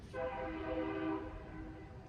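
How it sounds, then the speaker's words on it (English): An old freight train rumbles past with a steady, loud, sustained roar and layered tonal hum from the rail cars, starting abruptly and holding for about two seconds before easing slightly. "There goes the old freight train."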